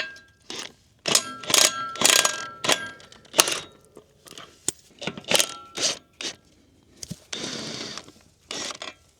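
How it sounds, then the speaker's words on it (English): Bolts are worked loose from a farm hay rake, giving close metallic clanks, scrapes and ratcheting bursts in an irregular rhythm with short pauses between. "We're gonna take those 3 bolts out and basically spin this around, and Chris is gonna assist us by lifting up"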